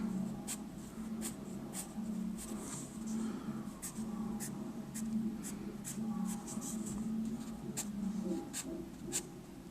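A pencil scratches short eyebrow hair strokes onto paper in a steady run of quick, close, soft scrapes, with a low hum and faint background noise underneath.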